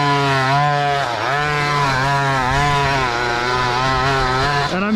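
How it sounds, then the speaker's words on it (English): A half-tracked $300 Amazon mini pocket bike churns over rough terrain, its small engine buzzing loud and steady at high revs, the pitch wavering up and down as the load shifts, with no talk over it. "All the sounds are coming from that little pocket bike."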